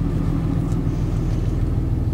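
A truck merging onto a freeway, heard from inside as a steady, deep engine drone and road rumble that stays constant throughout, with no talking.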